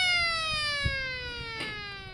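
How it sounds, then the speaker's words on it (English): A siren on a ranch feed truck, used to call stocker cattle, sounds as a steady high wail gliding slowly downward and holding for the whole stretch, with faint low rumble and a couple of soft knocks beneath. "the ranch team is able to move their cattle with just a feed truck and a siren"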